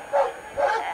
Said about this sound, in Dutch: dit is de allerliefste hond die er is